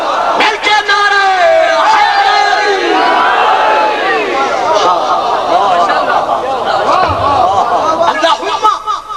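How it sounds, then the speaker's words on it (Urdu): A crowd at a memorial gathering in Kamalia raises loud chanted slogans together, voices massed and sustained for the whole stretch with rising and falling shouts. "اور یار جڑے بول سکتے ہو تو بولو نا مل کے نعرے"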